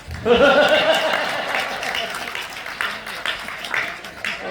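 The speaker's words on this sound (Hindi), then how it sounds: "सारे लोग ताली बजाओ" A crowd at a Hindi kavi sammelan poetry gathering in Sagwara breaks into clapping right after a voice, moderately loud applause with scattered sharper claps that thins slightly toward the end.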